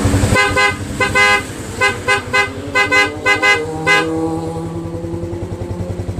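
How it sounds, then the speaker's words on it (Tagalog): A motorcycle horn honks in a quick series of short, loud beeps over the steady idle of its engine during a shop check of the lights and signals. The engine keeps idling alone after the last honk. "Busina."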